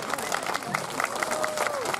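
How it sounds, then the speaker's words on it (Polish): Audience applause at a Polish improv comedy show by Gdańsk groups Improvizja and (Im)Perwersja in Lubawa, steady mid-level clapping from a small crowd, with a voice and some cheering mixed in underneath. "Wielkie brawa, wielkie brawa."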